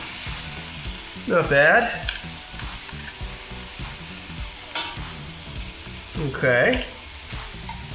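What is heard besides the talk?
pork chops searing in a frying pan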